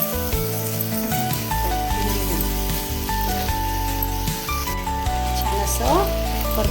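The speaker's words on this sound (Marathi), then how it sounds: "छान असं परतून घेऊया." Chopped ivy gourd (tondli) with onion, tomato and salt sautéing in a pan, giving a steady sizzle throughout under a fairly loud layer of music.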